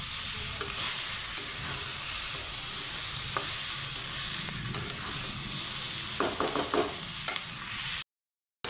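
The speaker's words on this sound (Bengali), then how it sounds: "সয়াটা ভালো করে ভাজা হয়ে গেছে," Soy chunks fry in a pan for a jackfruit curry, giving a steady close hiss with a few light clicks of utensils and no voices, before a sudden cutoff near the end.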